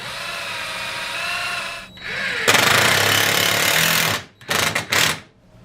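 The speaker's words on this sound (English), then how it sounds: "drill a hole in it" A power drill whines steadily, then bites into wood with a louder grinding buzz, ending in a few short bursts as the trigger is pulsed.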